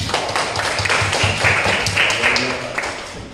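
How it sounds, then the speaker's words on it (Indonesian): Classroom applause for classmates: a short burst of brisk, dense clapping from a group of students, close and lively, fading slightly at the end. "tepuk tangan untuk teman-teman"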